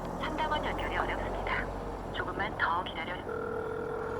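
A telephone call placed to a delivery service's customer service line: talk at first, then a steady, sustained call tone holds alone through the final second.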